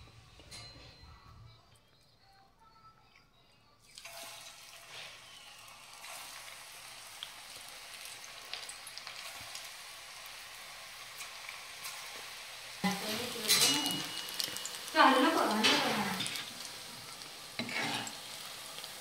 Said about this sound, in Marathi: आता आपण याच्यामध्ये गोळे टाकू आणि तळून घेऊ